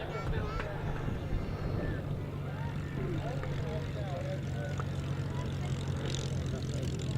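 A Hawker Hurricane propeller fighter comes in to land at an airshow, its steady low engine drone running throughout, with a commentator's voice and crowd noise layered over it.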